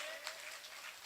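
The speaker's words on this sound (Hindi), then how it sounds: "जोर से ताली बजाकर राजा राम जी का, जोर से।" An audience claps at a Shrimad Bhagavat Katha religious gathering, a brief, faint and distant patter of many hands blending into a steady wash of applause.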